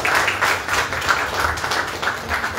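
An audience claps steadily at a ceremony supporting women's entrepreneurship, held by a union of chambers of commerce, a dense, even round of applause sustained for nearly three seconds with no one speaking.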